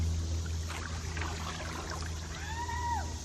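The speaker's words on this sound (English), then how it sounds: "Paddling backwards." A canoe paddled backwards on the Wekiva gives soft water swishes and small splashes from the paddle, faint and close, over a low steady hum, with a brief whistle-like tone near the end.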